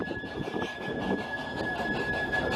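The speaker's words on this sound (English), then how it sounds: "the train proceeds at a fairly sedate pace" A train on the former Shotton Steelworks railway moves at a sedate pace, giving a steady, close rolling rumble with a faint sustained squeal and no voices.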